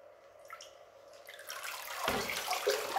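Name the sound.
watering a potted plant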